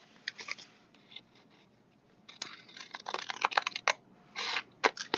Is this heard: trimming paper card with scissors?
yes